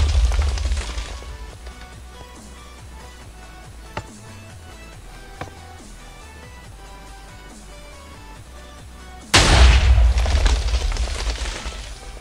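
Artillery shells exploding in the Minecraft Movecraft mod: a deep booming blast fading at the start, a long quiet stretch with faint ticks, then another heavy explosion rumbling loudly near the end, with no talk.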